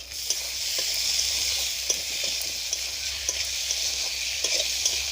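Chopped tomato sprinkled with salt frying in a pan, a steady hissing sizzle broken by short scraping stirs of a spatula, close and clear with no talking.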